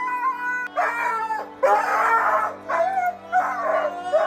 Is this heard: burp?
no